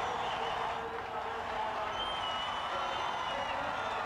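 Crowd at Darlington Raceway cheering during the 1985 Southern 500 NASCAR race, a steady, distant wash of roaring and applause with no clear individual voices.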